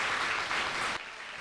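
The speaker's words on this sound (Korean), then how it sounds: "여러분들 큰 응원의 박수 부탁드립니다" A lecture audience in a hall claps together in a brief, dense round of applause that stops abruptly after about a second, leaving quieter room sound.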